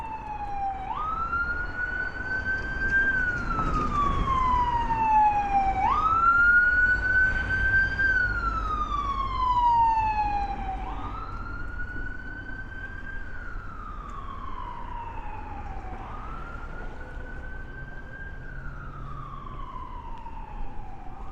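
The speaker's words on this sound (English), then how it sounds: "You hear all the ambulances?" Ambulance sirens wail in long rising and falling sweeps near a Brooklyn hospital emergency room, repeating about every five seconds, loud and fairly close with a low traffic rumble beneath.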